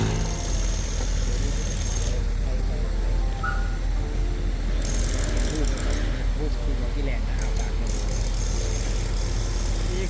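A boat engine runs on a river near a large bridge, a steady low rumble that continues unbroken under voices heard throughout.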